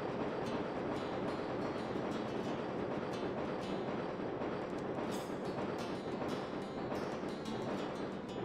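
A train in the Wild Arms 2 video game rumbles along in a continuous dense clatter of rolling cars, steady and fairly loud throughout, with no pauses.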